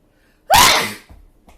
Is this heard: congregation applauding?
no